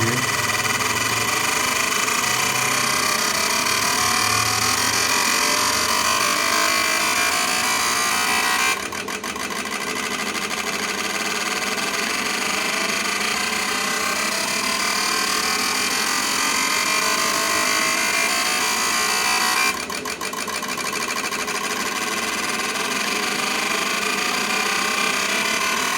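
An Autool CT500 ultrasonic cleaner runs continuously at high RPM, making a loud, steady mechanical buzz and whir that shifts pitch abruptly twice, with no one talking.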